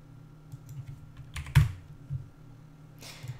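Someone types a few scattered keystrokes on a computer keyboard at close range. One clack lands harder than the rest and a short quick burst follows, over a faint steady room hum.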